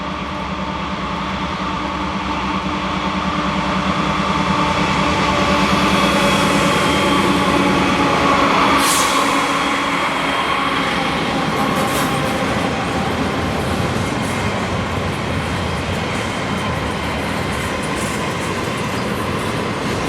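A Norfolk Southern train rumbles steadily past, with a continuous roar of wheels on the rails and faint rhythmic clatter throughout.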